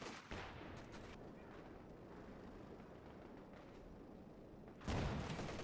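Gunfire from upgraded tier 4 units in Company of Heroes 2, a steady roar of distant battle shots and blasts running throughout, with a louder burst near the end.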